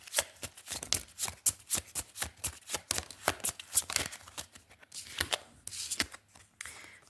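Oracle cards are shuffled by hand in rapid, irregular bursts of papery flicks and riffles, close and fairly quiet, with no voice over them.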